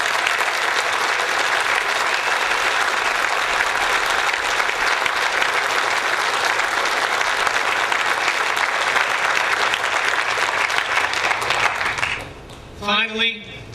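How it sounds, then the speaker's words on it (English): A large crowd at a sailing event's opening ceremony gives a long, steady round of applause for the volunteers, dense and unbroken for about twelve seconds before it fades and a voice starts speaking. "give a rousing round of applause to all the volunteers"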